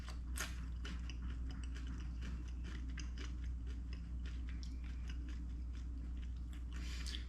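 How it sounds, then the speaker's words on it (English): Biting into and chewing a quesadilla filled with leftover cheese sauce, with soft, faint crunches and mouth sounds repeating over a low steady background hum. "We're going to try one bite."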